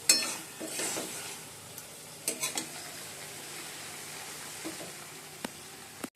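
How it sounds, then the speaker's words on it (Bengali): Spices sizzle softly in a pan for a Bengali fish curry, a steady faint frying hiss broken by a few sharp clinks and scrapes of a spoon stirring against the metal. "আর এদিকে মশলা কষিয়ে নিচ্ছি"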